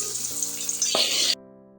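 Mustard seeds, dried red chili and curry leaves fry in coconut oil for a sambar tempering, giving a brief, close, bright sizzle that flares once before cutting off abruptly.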